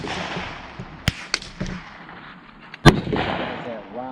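Sharp rifle reports from a .223 firing Tula steel-case ammunition at an outdoor shooting range, a few distinct cracks spaced unevenly with one especially loud shot near the end, each trailing a short echo.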